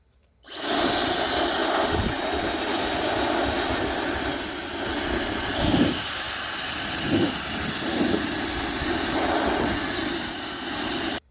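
A limited edition Dyson Supersonic hair dryer in Vinca Blue and Rose runs with a continuous, loud airy roar that holds steady for about ten seconds, with a few soft bumps of handling.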